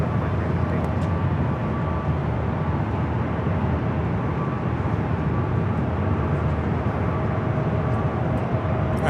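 Southwest Airlines Boeing 737-800 taking off from runway 24 left at LAX, a steady, loud broadband jet roar that holds without break throughout.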